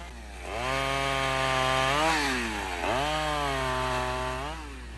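A chainsaw cuts wood, its engine held at a loud, steady whine, dipping once as it bites in and then rising again, alone and close.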